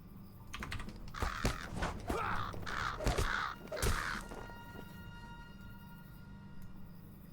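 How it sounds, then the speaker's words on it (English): Several crows caw in Lord of the Rings Online, a rough series of four or five harsh calls, with faint clicking and a low steady hum underneath. "It sounds like crows."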